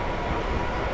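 A MEMU express train pulling away on the Trichy–Tambaram run, a dense, steady rumble of wheels and carriages filling the space close by, continuous with no pauses and no voices.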